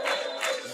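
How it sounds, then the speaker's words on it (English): Volleyball fans in a college gym chant a sustained, rising crowd cheer, loud and close, filling the whole moment with no other voices above it. "Fans shouting ole, ole again."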